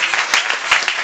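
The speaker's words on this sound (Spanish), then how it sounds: "Un aplauso, ¿no?, para eso." Loud, dense audience applause at a live blues night in a bar, a steady wash of many hands clapping close by for about a second, with no talking over it.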